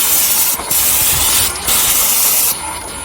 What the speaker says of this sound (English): So now what's going to happen is I am all primed, and I can start spraying.